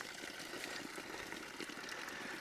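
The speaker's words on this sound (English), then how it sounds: "So both of those wells are where this water is coming from." Water flowing from a pair of wells through pipes, a steady broadband rush and gurgle holding constant throughout, fairly faint and unbroken with no voices.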